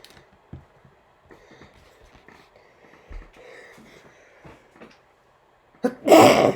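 A person sneezes once, loudly and close, near the end, after quiet clicks and rustles of Lego 10283 Space Shuttle pieces being handled.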